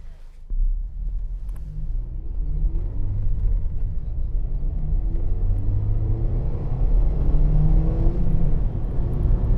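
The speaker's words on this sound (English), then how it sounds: "This is a 2016 Mazda MX5 Mark IV." A 2016 Mazda MX5 Mark IV (ND) drives, its engine a steady, close, low rumble and whir that builds slightly as the car gets under way and continues throughout.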